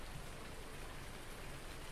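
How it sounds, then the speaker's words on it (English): Rain falling in Farming Simulator 19 on PS4: a steady, even hiss of dense raindrops with no pauses, faint and continuous throughout. "And it's raining."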